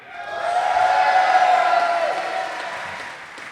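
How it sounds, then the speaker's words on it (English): A convention crowd gives a big round of applause with cheering, swelling loud and dense through the middle before tapering off, no speech over it. "let's give big rounds of applause"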